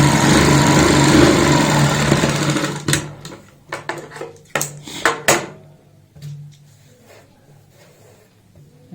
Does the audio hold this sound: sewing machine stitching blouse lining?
yes